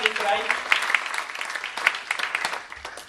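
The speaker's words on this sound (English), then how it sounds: "I think you give yourselves a round of applause for attending today" A keynote audience at an internet marketing event claps steadily for about three seconds, with dense overlapping hand claps and a few sharper peaks, and a voice briefly audible near the start.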